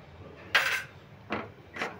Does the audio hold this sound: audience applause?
no